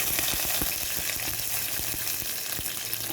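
Whole spices — bay leaves, cardamom, cloves, black peppercorns and a cinnamon stick — crackle and sizzle steadily in hot ghee, with sharp pops and occasional stirring clicks over a dense frying hiss.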